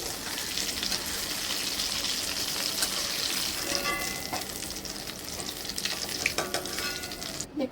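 Papaya dhoka pieces frying in hot oil in a pan and being turned over, a steady, dense sizzle with occasional light clinks of a utensil, close and continuous throughout.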